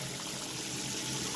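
A Nicolazzi Regal slide shower running on low water pressure gives off a steady, soft hiss of spray, even and unbroken throughout.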